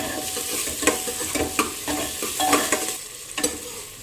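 Onion, ginger, garlic and green chilli sauté in a hot pan for chicken curry, giving a steady sizzle broken by repeated clattering stirs and scrapes of a spoon, close and fairly loud.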